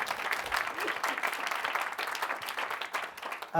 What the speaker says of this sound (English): So just to remind, another round of applause.